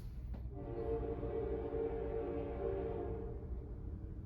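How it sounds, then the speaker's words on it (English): A train rumbles past close by, its horn sounding a long, steady blast that holds for several seconds over the heavy rolling noise. "And a train is passing right now, so that's what that noise is."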